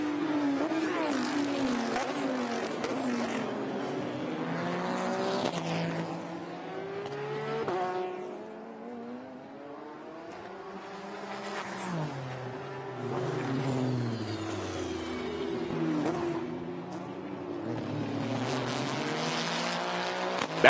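GT race cars roar through Sonoma Raceway in California during 2016 Pirelli World Challenge GT action, engines rising and falling in pitch as they pass, loud and continuous for the whole stretch.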